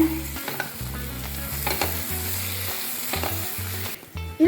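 Chicken curry tomato masala sizzles and crackles loudly in hot oil while a spoon stirs it, with repeated metallic scrapes against the pan and no voices.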